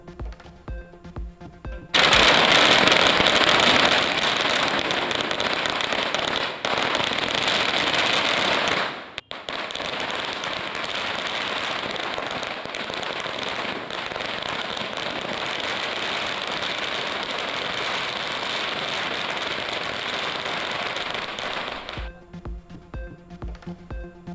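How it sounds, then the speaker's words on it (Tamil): Firecrackers bursting in dense, continuous crackling volleys through Diwali celebrations in the streets of Chennai, loud and sustained for around twenty seconds with a brief dip partway through. "சிறியவர் முதல் பெரியவர் வரை பட்டாசுகளை வெடித்து மகிழ்வதால் களை கட்டியுள்ள தீபாவளி."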